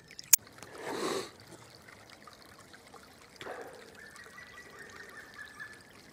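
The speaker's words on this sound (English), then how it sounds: "Right, so there we go, a bit of a babbling brook, nice and clean." A small, clean woodland brook trickles and babbles steadily, soft and close, after a brief louder splash near the start; no voices.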